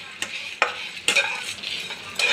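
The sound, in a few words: dry red chilli, cumin, coriander and five-spice frying in pan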